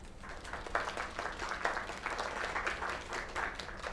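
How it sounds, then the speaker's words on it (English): A crowd applauds steadily in the game Lake, with dense clapping holding at an even level for several seconds. "Another round of applause."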